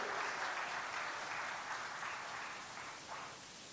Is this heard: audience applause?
yes